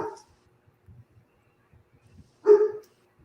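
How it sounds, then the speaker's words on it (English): Dogs bark nearby in a home setting: one bark at the start and a louder, fuller bark near the end, with faint shuffling and quiet noises between them. "Oh, that's me with the dogs."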